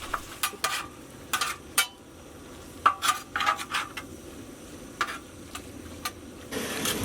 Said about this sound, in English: Once the meat is cooking, you want to start chopping.